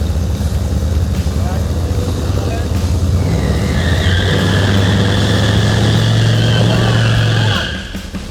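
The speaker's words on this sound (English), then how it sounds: "Do a burnout." Farm truck revving hard through a burnout, a loud, sustained engine roar with rising pitch and whining tire spin that holds steady for about seven seconds before easing off, close by.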